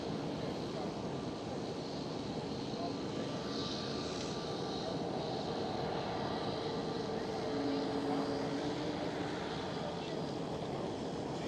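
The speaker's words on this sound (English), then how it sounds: "There's Air France going out. Air France Hop." An Air France Hop regional airliner taxis out at Amsterdam Schiphol, a steady distant engine whine and hum over wind-like broadband noise, with faint speech now and then.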